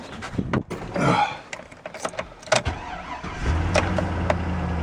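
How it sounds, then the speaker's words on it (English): A project truck being started after the battery is hooked up: a few sputtering cranks and clunks, then the engine catches and settles into a low, steady run near the microphone. "Alright, let's see if she starts."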